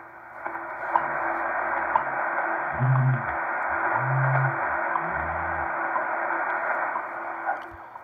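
Steady shortwave receiver hiss from a Collins KWM-2A tuned to the WWV 15 MHz time signal, with low hum tones pulsing a few times in the middle, and no voice over it.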